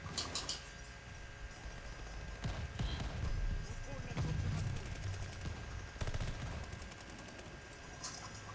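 Gunfire in the Call of Duty Vanguard video game rattles in dense rapid bursts and scattered shots over a steady game soundscape, with a voice talking through much of it.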